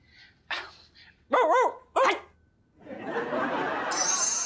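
A few short, close puppy barks in quick succession, then a stretch of hissing, rushing noise.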